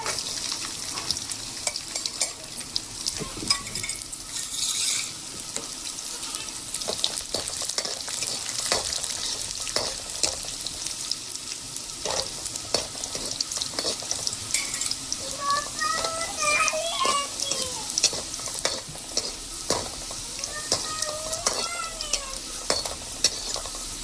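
Garlic and garam masala frying in hot oil for a home-cooked Gujarati dish, a steady close sizzle throughout with occasional stirring and clinks, while a faint cat meow rises briefly in the background.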